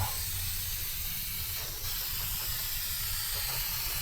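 Peelable coating sprayed from an aerosol can onto plastic over a camper van window, a continuous loud hiss with no breaks, heard close up.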